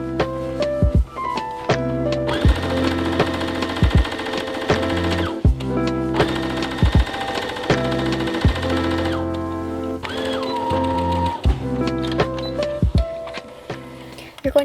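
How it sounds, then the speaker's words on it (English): A sewing machine stitches along the edges of fabric for a pleated doll skirt, running in loud rapid bursts with brief pauses and clunks between runs. "I've took it to my sewing machine and I'm sewing"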